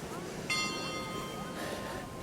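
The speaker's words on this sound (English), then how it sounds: "And those bells are clock tower bells." Church clock tower bells in the Netherlands ring out partway through, a bright sustained peal hanging over open outdoor ambience with some background voices.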